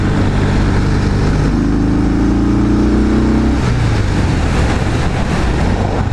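Harley-Davidson Breakout motorcycle engine downshifting on a ride in Fayetteville, Arkansas, a loud close rumble with a held tone that drops in pitch, over constant wind noise.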